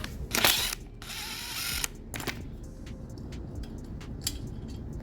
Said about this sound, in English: Now you can grab the 5mm hexagonal socket or Allen key to remove the motor.